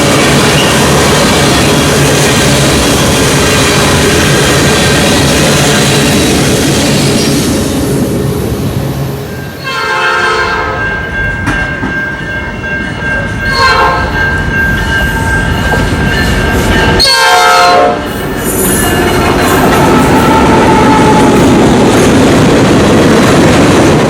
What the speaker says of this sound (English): crude oil train on BNSF rails in LaGrange, Illinois.